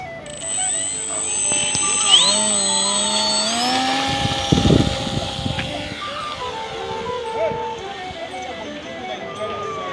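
A small DIY radio-controlled ultralight-style model airplane's electric motor runs steadily at half throttle, a continuous whining drone with shifting pitch, heard close alongside voices talking.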